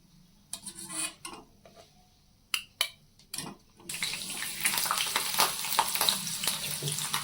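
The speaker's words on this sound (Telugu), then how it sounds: "పచ్చిమిరపకాయలు ఇలా వేయించుకోవాలండి" Green chillies go into a pan of hot oil while dondakaya fry is cooked, bringing a loud, steady sizzle. Just before it, a few metal clinks and scrapes of utensils against the pan are heard.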